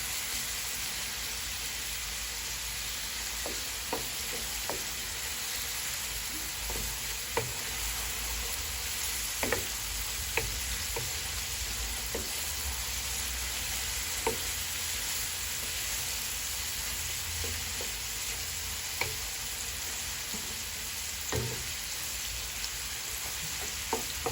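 Onion and garlic fry in oil for pork kare-kare, making a steady hissing sizzle with occasional faint clicks of a utensil against the pan.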